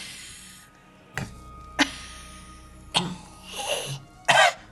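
A voice imitating trees coughing in a tabletop game, a series of about five short, separate cough-like bursts spaced irregularly, close to the microphone with quiet gaps between them.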